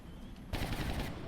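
Burst of automatic gunfire from shredder ammo in the XCOM: Enemy Within Long War mod, a loud sustained rattle starting halfway through after a quiet lead-in.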